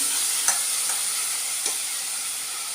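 Garden cress seeds roasting in a hot tempering for saag give a steady, bright sizzle and crackle with a couple of faint stirring scrapes, close and continuous with no talk.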